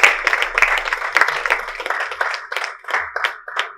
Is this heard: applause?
yes